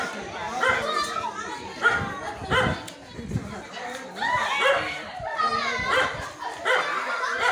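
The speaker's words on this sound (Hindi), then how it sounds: "आप सब देख सकते हैं किस प्रकार से कुत्ता काटने के लिए दौड़ रहा है" A dog barks and yips repeatedly while charging forward to bite, heard outdoors during a cobra rescue on a rooftop, mixed with overlapping voices and lively background noise throughout.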